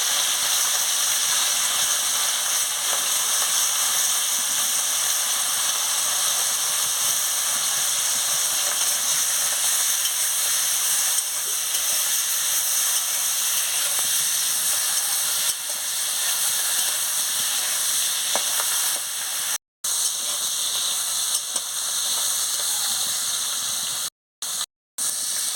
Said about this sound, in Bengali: এই যে তেল গরম হয়েছে, ক্যাংড়াটা দিয়ে দিচ্ছি।